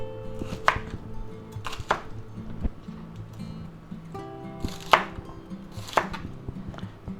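A kitchen knife chops celery stems into 2-inch sections on a cutting board, sharp crisp knocks arriving in small bursts and single strikes, close and clear over a faint steady background, with no talking.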